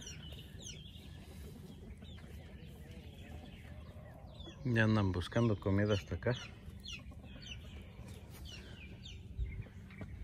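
Chickens foraging for food on a farm cluck loudly in a short burst of several calls, with someone speaking nearby before and after and faint chirps in the background.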